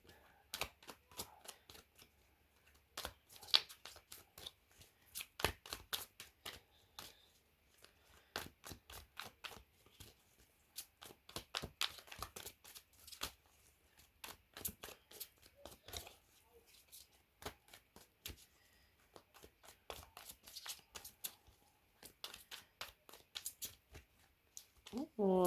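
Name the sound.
shuffling cards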